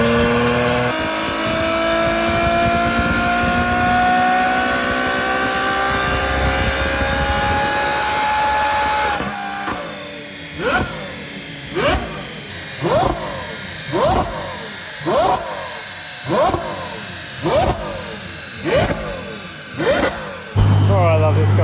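A Ferrari F12 V12 with a Valvetronic exhaust, first holding a loud, rising engine whine, then blipped in a steady series of about ten sharp revs that each climb and fall, close by with a voice briefly present.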